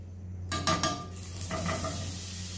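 Olive oil and butter heat in a preheated pan, with a couple of clattering pan knocks followed by a soft steady sizzle over a low background hum.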